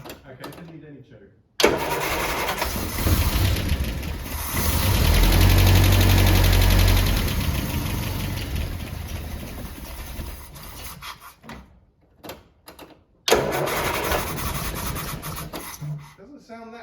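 A Land Rover Series 3 engine started without choke: a loud cranking catch into rough running, revving up then settling to an uneven idle, cutting out briefly and restarting, with people talking over it.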